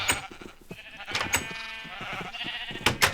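Several short sheep bleats from Minecraft, a few loud, spread across a few seconds alongside game noises.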